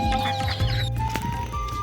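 Chickens cluck and squawk close by as ducks and chickens are let out of their coop at dusk, a short burst of overlapping calls with no speech.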